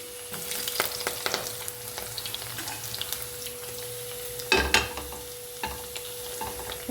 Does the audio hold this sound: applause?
no